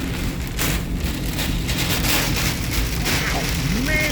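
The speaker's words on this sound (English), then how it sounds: "Oh man, this is rain. This sounds crazy." Heavy rain pours down hard on a vehicle while driving, a dense, loud, steady drumming hiss that fills the whole stretch, with a brief rising tone near the end.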